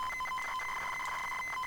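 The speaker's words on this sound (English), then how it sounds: "That sounds a bit like a loading screen." ZX Spectrum game tape loading, a steady high-pitched carrier tone with brief pulsing breaks, continuous and fairly loud throughout, with no voices.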